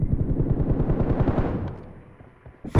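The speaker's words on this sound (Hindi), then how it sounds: "गोलियां चल रही हैं." Rapid automatic gunfire in the mobile battle royale game BGMI, a fast stuttering burst of shots that rattles continuously, thins out and fades, then a sharp loud shot or two at the end.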